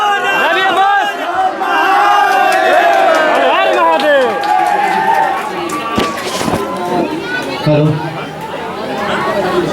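Large crowd at a singer's event in Bhojpuri country, cheering and chattering loudly and continuously, with shouted chants and a few voices calling out close by.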